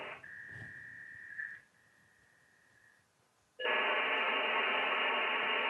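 V29 modem handshake over a telephone-bandwidth line: a thin steady tone that steps down in level, a short quiet gap, then a sudden loud dense hiss of data noise that fills the rest.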